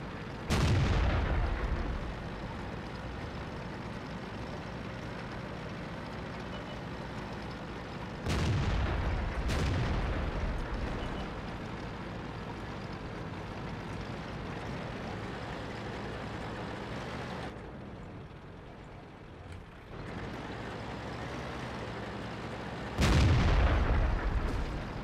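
Heavy tank cannon shots in World of Tanks, with loud booming blasts near the start, around 8–10 seconds and again near the end, over a continuous low rumble of engine and battle ambience.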